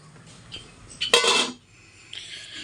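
A metal lid is set onto a cooking pot of cauliflower leaves left to boil. One bright, close clang-and-scrape lasts under half a second, bracketed by lighter taps and faint kitchen clatter.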